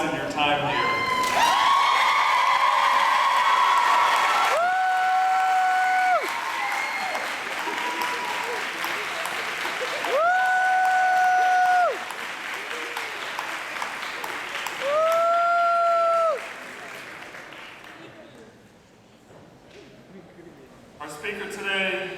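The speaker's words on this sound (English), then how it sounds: "turn and applaud your family and friends who've supported you" At a university commencement, graduating students applaud their family and friends. The sustained, loud crowd clapping is mixed with cheering and whoops, then fades to sparse claps near the end.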